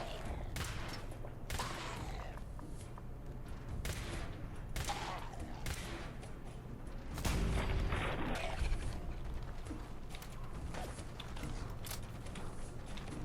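A rapid string of queued gunshots fires in Fallout 4 survival gameplay, with dense cracking volleys and mechanical clicks running steadily throughout and a heavier burst near the middle.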